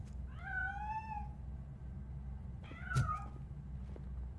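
Two meows from a cat in the video game RoboCop: Rogue City, a drawn-out one followed by a shorter one after a pause, heard over a low steady game ambience.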